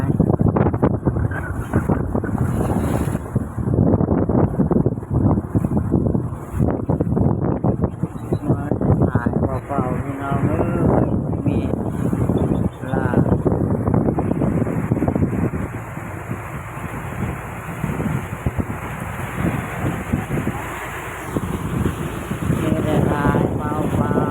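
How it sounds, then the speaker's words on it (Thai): Strong wind blowing outdoors buffets the microphone with a constant loud rumble, while people talk over it throughout. "มาทางนี้ก็เป็นลมเหมือนกัน"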